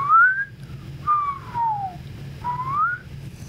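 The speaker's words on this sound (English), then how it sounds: "or whistling." A person whistles three clear melodic phrases, a short rising note, then a longer falling glide, then a rising note, close and steady against light background hum, with no talking.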